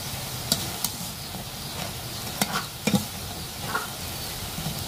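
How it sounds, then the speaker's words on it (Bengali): Crisp lentil fritters (bora) frying in a pan with a steady close sizzle, broken by a few sharp clicks and scrapes from stirring; no talking. "বড়াগুলো কিন্তু খুব মশমশা হয়েছে, মনে হচ্ছে অনেক শক্ত হয়ে গেছে, মানে খড়খড়ে একটা আওয়াজ আসতেছে"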